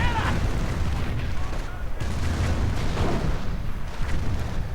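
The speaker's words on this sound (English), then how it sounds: "we are seeing a firestorm going in" Continuous rumbling booms and crackling blasts from a firestorm artillery barrage in a WWII strategy game, with dense explosive noise and gunfire that stays loud and steady throughout.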